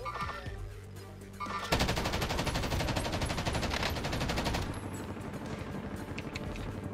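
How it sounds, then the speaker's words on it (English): Sniper and automatic gunfire in Call of Duty Warzone, a burst of rapid, loud shots starting abruptly and rattling for a few seconds before fading to sparse, distant cracks. "I'm getting sniped at."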